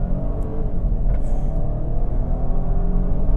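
A Vauxhall Astra with a 1.2 litre engine accelerates hard from a standing launch, its engine droning loud and steady from inside the car without talk.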